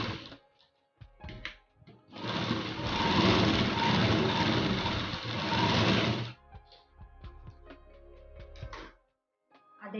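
A sewing machine stitches the shoulder seam of a churidhar-model nighty. A few short taps come first, then a steady run of about four seconds, followed by brief stops and starts, close and clear.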